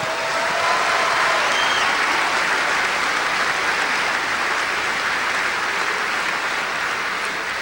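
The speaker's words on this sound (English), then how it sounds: "So everybody give a round of applause to Martelli." A large basketball arena crowd gives sustained, dense applause for coach Martelli, steady and loud throughout with no speech.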